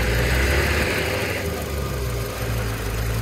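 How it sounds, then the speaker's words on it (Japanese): A Toyota Estima G idles steadily nearby, a constant low engine rumble with a faint mechanical ticking layered on top and no voices. "エンジン音です"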